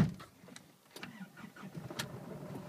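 A 2009 Holden Colorado with 66,000 km starts first time: a brief starter crank catches into a steady engine idle, heard fairly close and on its own.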